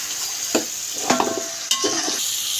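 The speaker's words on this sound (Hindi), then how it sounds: "ये हमारी ये नली और ये है ये भी इसमें ऐड कर दूंगी और इसको भी हम ज़रा सा भूनेंगे मसाले में" Mutton shank pieces being fried and stirred in masala, a low sizzle under several distinct scraping stirs of a spoon against the pot, close and without talk.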